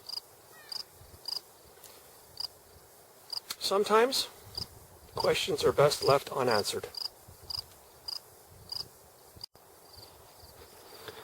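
Cricket chirping in an outdoor setting, short regular chirps repeating steadily through the scene, fairly close and clear, with a person speaking briefly over them partway through.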